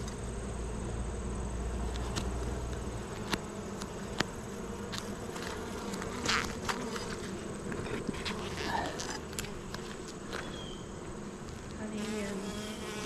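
Honey bees buzz steadily around an open hive during an August inspection, a dense droning hum with occasional nearer passes and light clicks of handling, no voices standing out.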